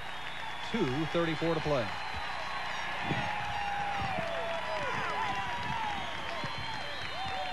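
Georgia Southern football fans at a 1987 home game against Maine give a steady crowd roar with scattered cheers, heard under a commentator's play-by-play.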